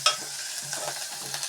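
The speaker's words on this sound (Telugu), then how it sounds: "ఆయిల్ తర్వాత ఉల్లిపాయ వేసాం. ఉల్లిపాయ తర్వాత కరివేపాకు వేసాం." Onions and curry leaves fry in hot oil in a pan, a close, steady sizzle with stirring scrapes and light crackling throughout, and no voices.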